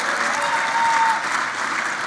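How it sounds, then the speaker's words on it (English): Loud, sustained applause from an audience at a public gathering in Minneapolis, many hands clapping together as an even wash of sound with no pause. "please applaud"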